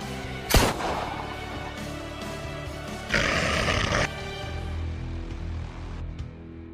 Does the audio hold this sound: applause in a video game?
no